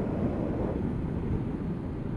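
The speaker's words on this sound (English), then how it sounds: "oh blimey, it's windy" Steady, loud wind buffeting roars across the microphone while riding a Honda CB500X motorcycle. The low, rumbling rush runs continuously for the whole stretch with no voices over it.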